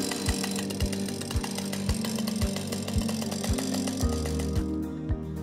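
A chainsaw engine set on the ground for forestry work runs close and loud, thumping in an even, steady rhythm roughly twice per second with no talk.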